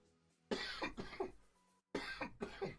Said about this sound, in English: I got a fucking really bad cough.